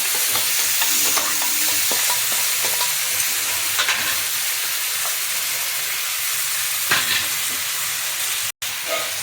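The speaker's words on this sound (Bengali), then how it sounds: "এইভাবে সমস্তটা মিশিয়ে নিয়ে একসঙ্গে ভাজা ভাজা করতে হবে খুন্তি দিয়ে" Tomatoes frying with garlic paste and turmeric as a spatula stirs them through the pan, a loud steady sizzle with repeated scraping strokes, close and continuous with no talking.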